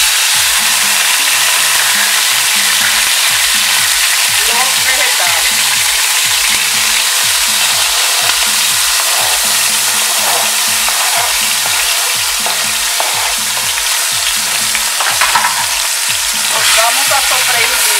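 Vegetables, paste and vinegar sauté loudly in a pot for Dominican salt cod stew, a dense constant sizzle with a steady rhythmic stirring scrape throughout.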